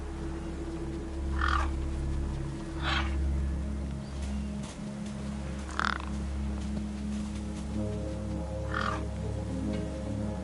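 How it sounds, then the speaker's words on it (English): Crows caw over a corpse propped against a rock in the video game Beyond a Steel Sky, several separate harsh caws spaced a second or two apart over a low steady hum of game ambience. "No way I was going to get between those birds and their feast."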